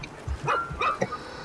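A dog in the video game ReCore gives a few short, soft barks and yips in quick succession, fairly quiet and set against low background game sound.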